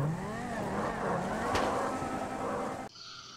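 A Volkswagen Golf 5 concept car with a 6-litre W12 engine mounted behind the seats revs hard in a GTA RP driving game, a loud, rising mechanical roar that cuts off abruptly near the end.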